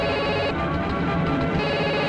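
A telephone rings steadily and fairly loudly in a Telugu feature film scene, its sustained electronic tone running unbroken for about two seconds with no talking over it.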